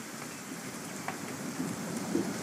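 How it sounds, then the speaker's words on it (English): Steady rain falling in the video game What Remains of Edith Finch, a continuous soft hiss of drops with a few slightly louder patters, with no voices. "It's gonna rain the whole weekend, isn't it?"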